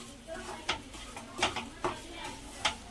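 Beetroot and sugar being stirred in a pan, with a spoon scraping and clinking against the metal about four times in an uneven rhythm, close and moderately quiet over a faint sizzle.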